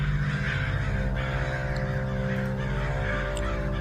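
Crows caw repeatedly as part of a horror story sound effect, with harsh calls standing out above a thick, droning musical background that runs steadily and loudly throughout.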